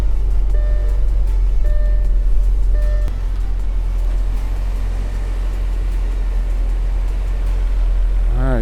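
A rebuilt Audi A4 engine runs with a steady low rumble close by, a few short beeping tones over it early on, then settling into an even idle.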